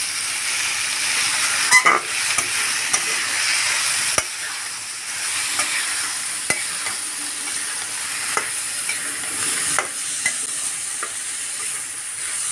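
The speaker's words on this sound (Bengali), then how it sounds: "নেড়ে চেড়ে খুব সুন্দর করে এটাকে ভাজা ভাজা করে নেব।" Bitter gourd and potato fry in a pan with a constant sizzling hiss, punctuated by irregular scrapes and knocks of a spatula stirring the mixture, close and fairly loud throughout.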